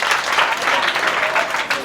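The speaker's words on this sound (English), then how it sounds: "Please clap for him as he goes back." An audience claps in sustained, dense applause, close and loud throughout the short stretch.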